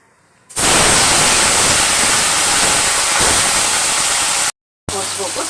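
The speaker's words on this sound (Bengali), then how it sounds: "এখন আমি মুরগির মাংসগুলা ভেজে নিব।" Chicken meat fries in hot oil with a loud, continuous, close-up sizzle that starts abruptly and breaks off briefly near the end.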